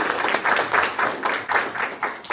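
Brief applause for a classroom presenter, a small group clapping in loose pulses that rise and fall.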